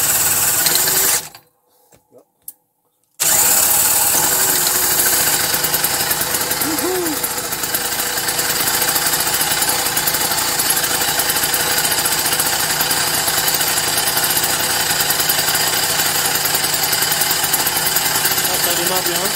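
Motobecane AV 33 moped engine fired up without choke after a brief silent pause, then idling as a loud, steady, buzzing two-stroke drone, with a voice talking faintly over it.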